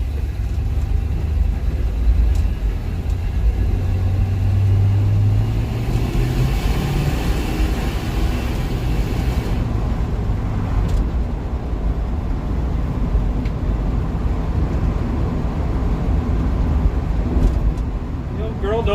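A Dodge with a rebuilt 318 engine cruising on an open road, heard as a steady, loud engine and road rumble with a brief rising engine tone, and someone talking over it.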